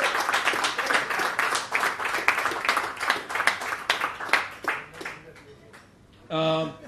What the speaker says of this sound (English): Big round of applause for Dom.